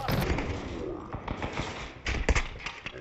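Video game gunfire crackles in short overlapping bursts of shots, moderately loud and irregular, with sharper impacts toward the end.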